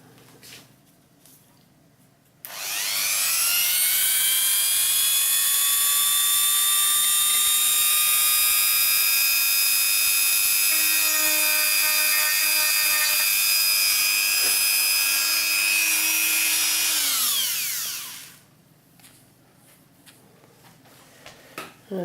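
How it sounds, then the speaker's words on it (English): A Dremel rotary tool whines steadily at high speed while cleaning out a chip hole in a Telecaster copy guitar body, holding a loud, sustained pitch for about fifteen seconds before spinning down and stopping. "I'm just going to clean out this wee chip hole, see how that goes with my Dremel"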